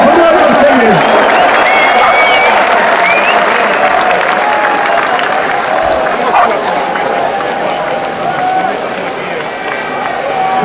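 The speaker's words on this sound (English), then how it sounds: "Give yourselves a round of applause, this is incredible." Crowd applause and cheering at a live outdoor rally in London, a loud, dense wash of clapping sustained throughout with crowd noise mixed in.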